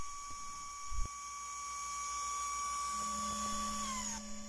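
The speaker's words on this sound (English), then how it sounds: "now it's running the pass just with a regular drill bit in order to drill the 4 holes" A small machine drill with a regular drill bit whines at a steady high pitch while drilling holes in aircraft parts, its tone shifting near the end, with a brief clunk early on.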